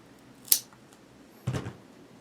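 Two quick snips of scissors cutting a small strip of fresh two-sided tape, a sharp click followed a second later by a duller cut, close and quiet.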